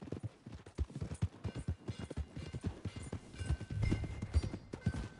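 Horse hooves clip-clop at a walking pace in the Red Dead video game, an uneven run of close, clear hoof strikes with light tack rattle and no talk.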